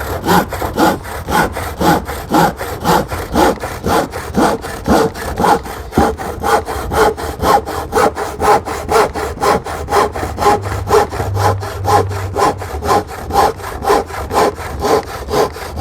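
A hand saw crosscuts wood for a fire pit table top in steady, rhythmic strokes, about three per second, loud and close with no talk.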